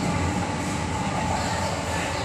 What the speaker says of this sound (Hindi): और ये हमारा मेट्रो जहाँ पे कुछ लोग शोर मचा रहे हैं